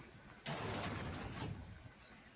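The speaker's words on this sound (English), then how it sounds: "I see the door still work." A door opens in the video game Fortnite with a short, soft sliding whoosh lasting about a second over a steady faint background hum.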